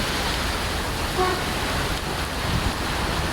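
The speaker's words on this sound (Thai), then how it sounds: "ต้องรอ ให้ฝนซาก่อนนะครับผม ตอนนี้มองไม่เห็นทางเลย มันตกอย่างแรงเลย" Heavy rain pours down hard and steady during a downpour so dense the road ahead cannot be seen, a loud, unbroken wash of noise with no talk.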